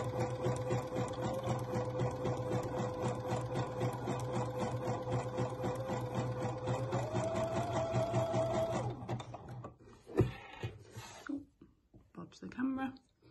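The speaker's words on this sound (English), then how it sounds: "Okay, so you can see I've got the elastic under the sewing machine," Domestic sewing machine running a three-step zigzag stitch over elastic, a steady close mechanical whir with rapid needle rhythm for about nine seconds, then stopping; handling clicks follow and a voice talks over it.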